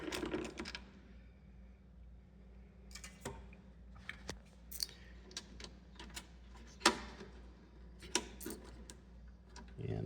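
Screws are being unscrewed from an Instant Vortex Plus air fryer (model AFB6132BK) with a screwdriver. Scattered close small clicks and ticks come at an irregular pace over a quiet background.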